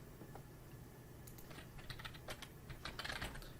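Quick, uneven keystrokes on a computer keyboard while building a web design prototype, a steady patter of light clicks over a low background hum, with no talking.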